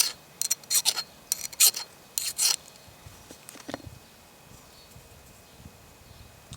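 A Gerber MP600 multi-tool file cuts across an old 1055 steel axe head in a quick series of short, close, gritty rasping strokes. A few fainter scrapes follow before the strokes stop.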